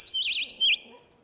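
Bright, warbling synthetic bird chirps as a television show sound effect, a few rapid trilling tweets close and clear for about half a second, then one short chirp, fading to near silence.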